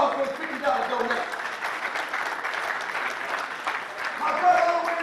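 A church audience at a peace summit breaks into a sustained round of applause and clapping for a $50 donation, steady and moderately loud throughout with crowd noise and voices mixed in.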